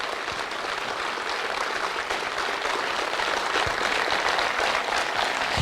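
A steady wash of audience applause fills the hall at a direct-selling event, with dense continuous clapping at even loudness throughout.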